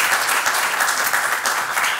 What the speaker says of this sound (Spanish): un aplauso para este tema